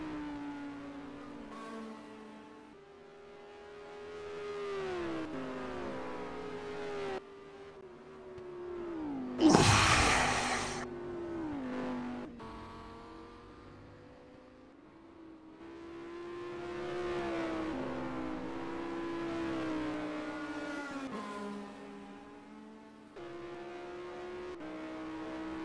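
GT3 race cars lapping Silverstone in a sim racing game during a 12-hour endurance event, engines droning and shifting pitch as they accelerate, with a loud brief burst near the middle and no talk.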